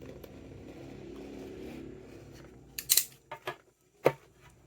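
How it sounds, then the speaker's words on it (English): Sharp, brief crinkling and tearing bursts as plastic wrapping is pulled off a DT Watch X smartwatch, a few quick rustles in a quiet room. "let's remove the plastic."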